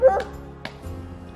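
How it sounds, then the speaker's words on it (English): A neighbor's dog barks a few short times in the distance, quick yips spaced apart, outdoors on a rural property, fairly faint against a quiet background with some low noise. "my neighbor's dog is barking"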